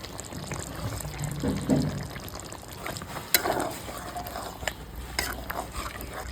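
Ground nut paste is stirred into chicken curry cooking in a pan, giving soft wet scraping and stirring sounds over a low simmer, with an occasional sharp clink of the utensil.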